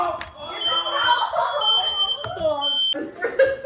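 A smoke alarm sounds during home cooking of chicken, a shrill steady electronic tone that starts and stops over a few seconds, loud and close, with people talking over and around it.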